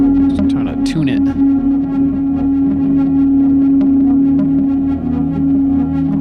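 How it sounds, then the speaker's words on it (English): Cassette tape loop echo with heavy feedback, a steady loud ringing tone sustained throughout, with brief chirpy squeals near the start. "Lots of feedback on that echo there."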